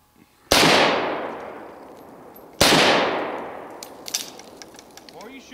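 Two loud, close gunshots about two seconds apart, each with a sharp crack and a long echoing decay, followed by fainter clatter and a brief voice.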